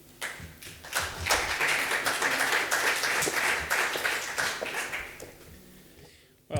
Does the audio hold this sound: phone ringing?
no